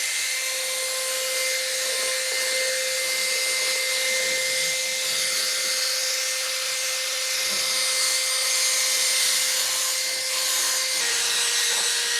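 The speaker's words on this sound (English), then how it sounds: "I'm just gonna clean it up with a drill brush" A steady, continuous whirring hum with a high-pitched tone, like a motorized drill brush spinning against a surface, running without pause throughout.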